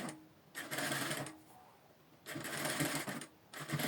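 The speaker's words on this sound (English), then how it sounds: "So you sew it gently this way." A sewing machine stitches a structured cone sleeve in two bursts of fast, steady mechanical chatter with a quiet pause between them. The machine is close and clear, and no one speaks.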